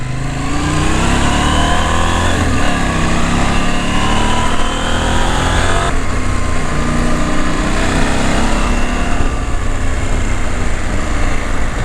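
A KTM 790 Adventure motorcycle ridden hard along a twisting mountain road on the Isle of Man, its engine loud and continuous, rising and falling with throttle and gear changes over heavy wind rush.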